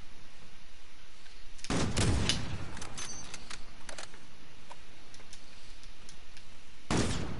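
Video game gunfire: a few loud, sharp shot bursts crack out at intervals, with one cluster early and another near the end, over a faint steady background.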